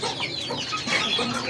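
An Aseel hen penned on her own clucks softly in a short run of quiet, repeated calls.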